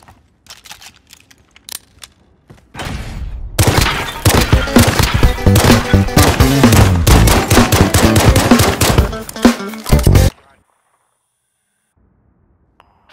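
Gunfire in Call of Duty Warzone: a dense, loud burst of rapid automatic shots running for about seven seconds, preceded by a few scattered clicks and ending abruptly in near silence, with no talking.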